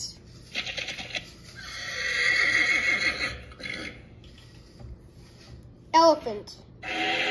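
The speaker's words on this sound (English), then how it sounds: "Horse." A horse whinnies in a long, shrill, wavering call with a few lower snorting sounds, followed by a brief sharp sound and some background noise.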